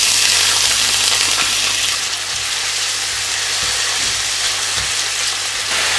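Onions hitting hot oil with whole spices in a pan, giving a loud, steady sizzle that stays broad and continuous, with a few light knocks from stirring underneath.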